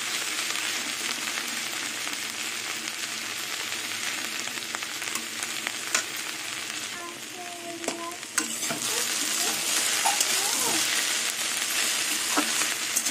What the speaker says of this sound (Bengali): একটু ছড়িয়ে দেবো, তাহলে ভালো ভাজা হবে।